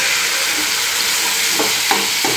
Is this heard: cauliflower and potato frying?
yes